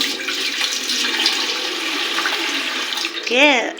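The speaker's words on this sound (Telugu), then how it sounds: "మనం లీటర్ వాటర్ ఇందులోకి వేసేసుకుందాం." About a litre of water pours from a pot into a container in a village kitchen, making a steady broad rush that lasts several seconds and ends with a short gurgling swirl.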